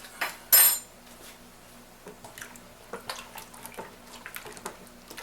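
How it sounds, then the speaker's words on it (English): A homemade mojito hard iced tea mixture is stirred in a container, with a loud metallic clink near the start followed by soft, irregular scraping and tapping knocks, quiet and close, with no talking. "Stir it up."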